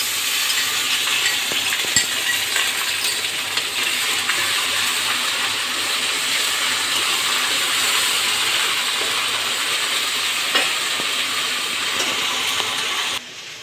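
A ground paste of ginger, garlic, cumin and coriander frying in a pan with bottle gourd and snakehead fish, giving a continuous loud hiss and sizzle with occasional faint clinks, close up, which drops away at the very end.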